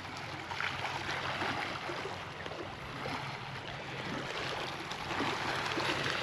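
Sea waves wash continuously at Tân Thành beach as the tide comes in, a broad, even rushing surge that swells slightly toward the end, with no voices.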